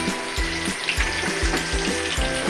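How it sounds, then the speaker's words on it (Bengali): Katla fish sizzle in a pan of oil, a close, continuous frying hiss marked by rhythmic bubbling pulses and splutters roughly every half second, alone with no talk. "কাতলা মাছ ভাজা হচ্ছে"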